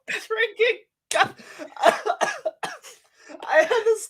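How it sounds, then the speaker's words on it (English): One person coughs up close and loudly in several rough, irregular bursts, with throaty, voiced coughs broken by short gaps and a brief pause partway through. "start coughing like I just did"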